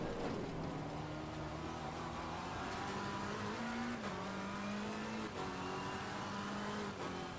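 Race cars from the sim racing game Assetto Corsa Competizione drive through a chicane in an online league race, engines droning and shifting pitch steadily throughout with loud, continuous revving and occasional tire noise, no voices.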